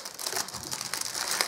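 Decorative wrapping paper on Christmas post crinkled and crackled up close while being unwrapped, a quick run of dry rustling crackles with no speech.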